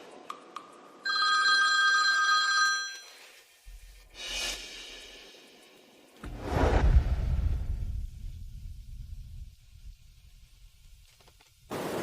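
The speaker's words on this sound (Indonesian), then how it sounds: "Bos, telepon dari resepsionis." Telephone bell rings in a short burst, then swooshing and rumbling sounds follow in a quiet indoor setting with no talk.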